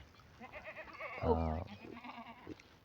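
Goats on a goat farm in Punjab bleat, one loud nearby cry standing out over softer calls from the herd, while someone talks over them.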